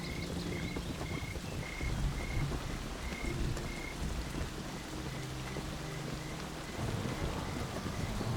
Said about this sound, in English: This sudden streak of rain seems abnormal.